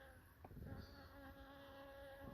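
Bees buzz around Stenocereus stellatus cactus flowers, a continuous insect drone close to the microphone with a faint steady hum beneath it.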